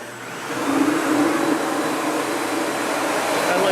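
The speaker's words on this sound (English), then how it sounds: "Let's vacuum this up." Sebo Felix upright vacuum cleaner running with a steady, loud whooshing motor roar that swells slightly at the start and holds continuously.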